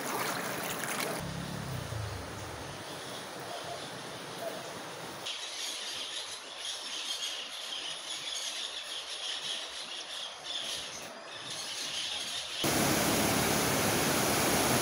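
The Goascorán River at El Amatillo, on the Honduras–El Salvador border, flows continuously, a broad steady roar heard up close, with the wash shifting in intensity over time.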